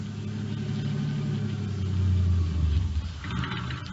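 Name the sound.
car engine idling in the video game Night Beat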